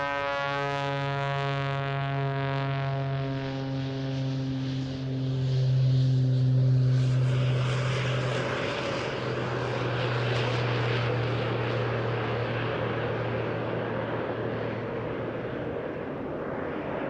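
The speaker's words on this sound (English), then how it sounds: "highly modified jet-powered Pitts S2SE" A highly modified jet-powered Pitts S2SE aerobatic biplane performs at an airshow, its steady jet whine rising into a loud roaring pass before settling into a sustained rushing drone, with no talk.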